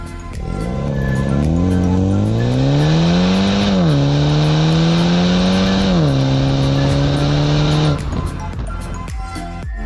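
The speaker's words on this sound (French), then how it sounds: "il est vraiment très difficile de ne pas faire chanter l'échappement" A 2019 Mini Cooper S Cabriolet with 280 Nm of torque accelerates hard, its exhaust note climbing in pitch, dipping at gear changes and rising again before cutting off sharply near the end.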